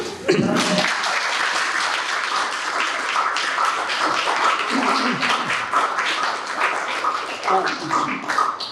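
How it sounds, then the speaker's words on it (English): An audience claps after a folk song about Vermont at a lecture, a dense, steady patter of many hands lasting several seconds at close range, with a few voices mixed in. "You don't have to clap if you don't want to."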